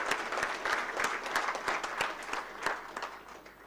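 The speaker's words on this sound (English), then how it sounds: "Please join me in giving a big round of applause." Delegates at an International Solar Alliance regional committee meeting in Zimbabwe give a round of applause, a quiet, even patter of many hands clapping heard from a distance.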